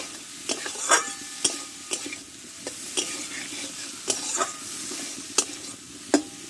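Potatoes stir-fried with spice masala and turmeric in a pan with little oil, a constant sizzle cut by regular scraping strokes of a spatula, close and clear with no voices.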